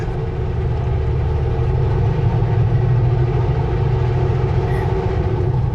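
A train runs along a shaded upper ledge above a highway reopened after a massive flood, giving a steady, continuous low rumble that holds evenly throughout at moderate distance.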